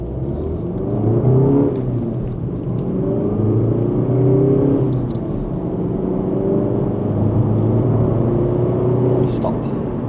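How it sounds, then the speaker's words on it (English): A VW Golf GTD diesel in normal mode accelerating from 0 to 60, revs pulled to just over 4,000; a steady engine rumble rises through gear changes over ten seconds, with a driver talking over it. "So I'm pulling the revs to 4 and a bit thousand."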